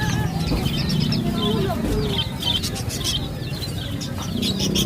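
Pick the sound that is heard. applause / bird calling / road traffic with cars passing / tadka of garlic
bird calling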